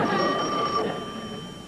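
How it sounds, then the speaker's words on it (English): A landline telephone rings in a domestic sitcom scene, a steady electronic bell tone with high partials holding for most of the moment before fading slightly, moderately loud with no talking over it. "Oh, it's ringing. It'll do that sometime."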